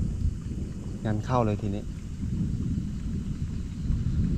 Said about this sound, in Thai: โอ้ฝนตกแล้ว